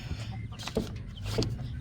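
Hens or roosters cluck softly in a coop, a few short close clucks over low background hum with no talking.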